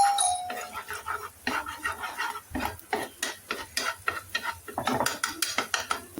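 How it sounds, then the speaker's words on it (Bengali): Egg scrambled in hot oil for noodles, a quiet sizzle under sharp, rhythmic clinks and scrapes of a utensil against the pan, with brief talking. "তেল গরম হলে আমরা হচ্ছে এই ডিমটা সুন্দর করে স্ক্র্যাম্বল করে নিব আগে।"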